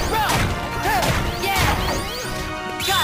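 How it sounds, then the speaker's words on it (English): Clay pots being smashed in the Olympus Coliseum area of Kingdom Hearts Birth By Sleep, a rapid run of sharp crashes and whacks with swishing strikes and ringing game effects, loud and close. "Just smashing a bunch of pots."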